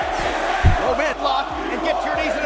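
Wrestling arena crowd chanting insults at Randy Orton, a loud, massed roar of voices rising and falling in rhythmic chants, heard from within the crowd.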